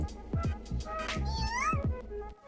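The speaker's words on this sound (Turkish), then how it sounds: "Bak bak nasıl da miyavlıyor." A kitten meows repeatedly in short rising cries, fairly close, with a voice and laughter mixed in around it.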